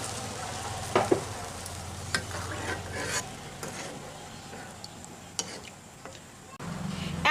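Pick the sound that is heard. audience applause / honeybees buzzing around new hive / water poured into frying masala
water poured into frying masala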